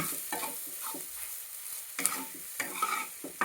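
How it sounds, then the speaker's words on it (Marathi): Chilachi greens mixture being sautéed and stirred in a pan over a low flame, a soft steady sizzle under repeated scraping strokes of a spoon, close and fairly quiet, with no talking. "आता या मिश्रणाला आपण परतून घेऊ छानसं 2 मिनटं मंद आचेवर"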